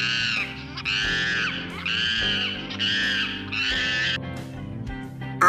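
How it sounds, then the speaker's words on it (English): Monkey calls ring out as a series of five loud, shrill screeching cries in quick succession, close and alone, ending with a short burst. "MONKEY, monkey."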